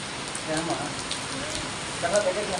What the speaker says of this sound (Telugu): చూడండి ఎలా పడుతుందో వాన